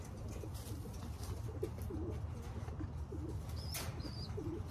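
Racing pigeons gathered for a one-loft race give soft, repeated low coos against a steady background hum and rustle, with a few faint higher chirps in between.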